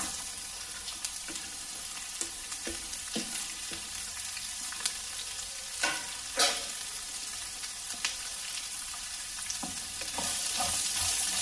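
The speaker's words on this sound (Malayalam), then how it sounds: "ഉള്ളി ഒന്ന് നന്നായിട്ട് വഴന്ന് നിറം ഒന്ന് മാറി വരണം" Ginger and shallots sauté in a pan for a fish curry. A continuous moderate sizzle carries on with scattered stirring scrapes and clicks, and it grows a little louder toward the end, with no speech.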